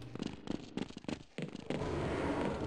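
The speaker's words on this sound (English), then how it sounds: "I'm going back to go shoot Barney in the face because he's not following me" Rapid gunfire in Half-Life, a quick series of sharp shots in short bursts followed by a sustained noisy crackle, fairly close and with no talking.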